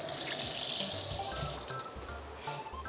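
Soil-covered potatoes are washed under a steadily running kitchen tap, with a continuous close splashing rush of water into a sink and brief changes as the potatoes are handled.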